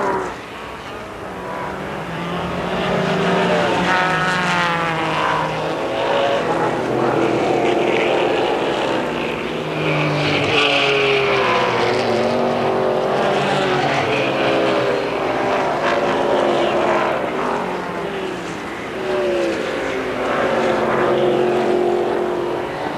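Trans Am race cars, a Beretta and an Oldsmobile, run flat out at Sears Point in 1990, their engines roaring loud and continuous as they accelerate out of a corner and through high-speed sections.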